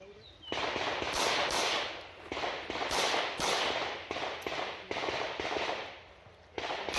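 Pistol shots at a USPSA practical shooting match ring out in a rapid string of about a dozen sharp cracks with uneven gaps, loud and outdoors, with faint speech in the background.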